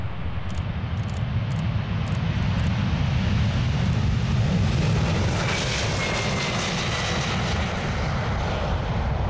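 An airplane takes off from an airport runway, its jet engines a broad, loud, sustained roar that swells toward the middle and holds steady, with faint radio chatter briefly near the start.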